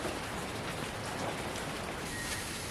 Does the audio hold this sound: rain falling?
yes